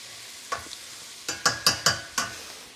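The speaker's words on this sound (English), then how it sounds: "we've got about 4 cloves of garlic, and we're going to saute that" About four garlic cloves sautéing in a pan, heard as a faint sizzle under a handful of sharp scraping stirs, one early and then four quick strokes in a row, close and clear.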